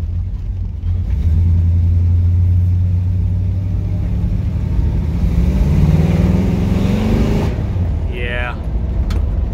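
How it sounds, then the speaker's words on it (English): A 1972 Chevrolet Monte Carlo with a stout small-block V8 roars loud and close, revving up steadily through a long sustained pull before dropping off, a brief squeal trailing at the end. "Yeah, not shy in the power department. Pretty stout small block in this car."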